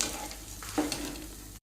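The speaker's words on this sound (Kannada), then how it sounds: "ಇವಾಗ ಇದು ಸ್ವಲ್ಪ ಫ್ರೈ ಆಗ್ತಾ ಬಂತು" Chicken curry ingredients fry in a pan with a steady, quiet sizzle, broken by a few soft stirring scrapes and clinks, and no voices over it.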